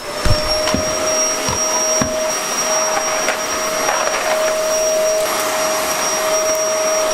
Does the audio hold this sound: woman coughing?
no